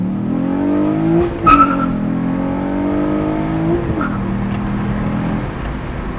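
A turbocharged Honda engine idles steadily just after firing up, a continuous near hum with a couple of brief rises in revs, no talking over it.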